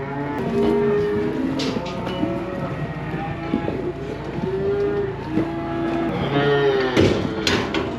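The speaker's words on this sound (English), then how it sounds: "These cattle are super calm." Several calves and cattle moo repeatedly in a cattle-handling facility, long low calls overlapping one another nearby, with clanking and rattling in the background.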